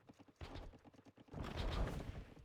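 Scout cavalry hooves in an Age of Empires II Teutons versus Britons match on the Hideout map, a quiet run of soft galloping clip-clops that thickens into a denser rumble of several horses partway through, with no voices.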